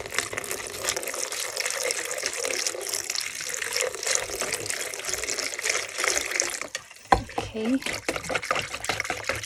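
Warm water whisked in a tub for paper marbling gives a continuous close sloshing and swirling, briefly broken by a clunk and splashes as more water is added, with a short spoken word.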